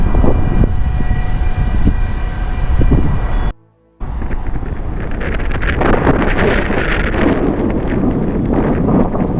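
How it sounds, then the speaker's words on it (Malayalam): Hot wind gusting straight into the microphone outdoors, a loud continuous rumbling buffet that drops out briefly and then returns just as strong, with no voices. "എന്താ കാറ്റ്, ചൂട് കാറ്റ്"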